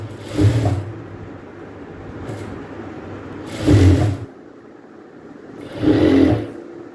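A sewing machine stitching blouse pieces runs in three short, whirring bursts, each about a second long, separated by quieter stretches of low background hum.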